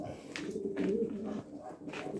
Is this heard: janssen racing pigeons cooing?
yes